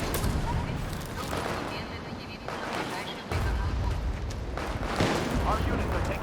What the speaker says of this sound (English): There's bullets going right past me, I'm not sure where the fuck they're coming from. It's coming from a tank in front of me.